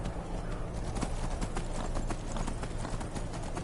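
Horse hooves clip-clop steadily in Skyrim, a fast even rhythm of close, distinct hoof strikes carrying through the whole stretch with a faint background hiss.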